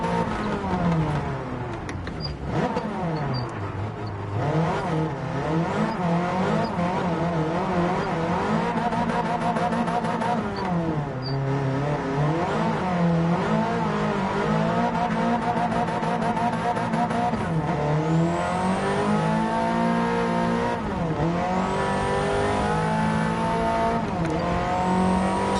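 A racing car in Gran Turismo 7 slides around a snowy track, its engine droning and rising and falling through gear changes with steady tyre noise, loud and continuous throughout.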